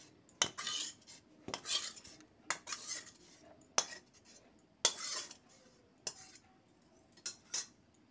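A spoon stirs a homemade skin-brightening face pack mixture in a bowl, producing sharp, close clinks and scrapes in irregular bursts with quiet pauses between them.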